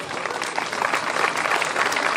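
Loud, dense applause fills the room at a hill-climb racing prize ceremony, steady and continuous clapping from a large crowd for the class winner.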